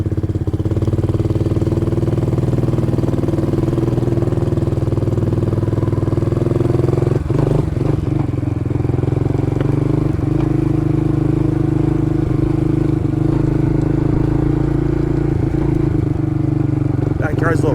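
Small Kayo Bull 125 EFI fuel-injected kids' ATV engine running steadily in a rough backyard, a loud continuous near hum with brief throttle blips and clatter midway, a voice talking over it at times.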